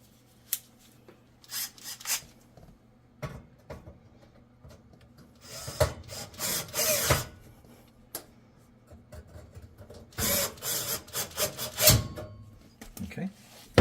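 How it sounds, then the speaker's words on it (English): A manual screwdriver turning screws into a Samsung gas oven during a repair makes bursts of close, gritty rubbing and ratcheting squeaks. Quiet pauses separate the bursts, and there is no talking. "I'm going to use a manual screwdriver just to get these started properly"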